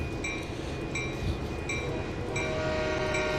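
Train in the Train Sim 2020 game, a steady rolling rumble with repeated short tonal horn blasts at an even pace over it, heard with no talking.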